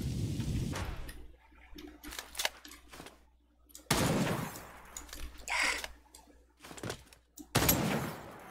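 Bursts of gunfire from a weapon in the video game Ark of Horizon, a few sharp loud volleys separated by quieter gaps, with some softer mechanical clicks between shots.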